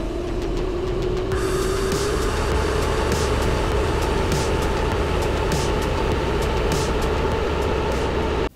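A vertical axis wind turbine spins in a roaring wind tunnel, a loud, steady rushing drone with a rising hum and rhythmic pulsing beats as the rotor wobbles violently.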